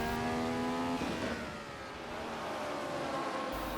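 Ferrari 312 PB racing prototype engine in Assetto Corsa, a sustained near engine note with harmonic pitch that falls briefly then holds steady, continuous over the whole stretch without talk.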